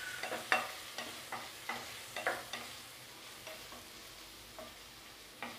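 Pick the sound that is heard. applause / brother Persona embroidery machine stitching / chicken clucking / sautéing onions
sautéing onions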